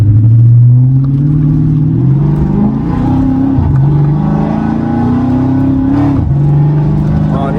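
A Dodge Challenger SRT 392 Scat Pack Hemi V8 with automatic transmission revs and accelerates, pitch climbing through several gear shifts with brief dips between them, loud and close with a steady rumble underneath.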